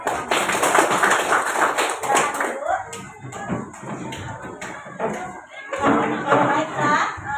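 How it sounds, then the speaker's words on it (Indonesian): A classroom of students claps hands in uneven bursts mixed with taps, shuffling and murmuring voices, the clapping strongest early and returning toward the end. "Oke, tepuk tangan."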